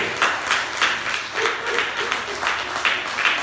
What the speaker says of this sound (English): Yes, you better clap for your honor.